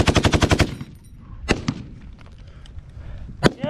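A machine gun fires a rapid burst of about a dozen evenly spaced loud shots during an infantry fire-support exercise, followed by a few scattered single reports and distant bangs over faint background noise.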